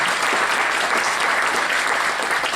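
An audience applauds the guests at a Star Trek villains podcast event, a steady, full wash of many hands clapping from start to finish, with no voices over it.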